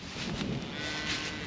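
Cattle in a paddock giving a drawn-out moo, a single loud low call over light wind noise outdoors.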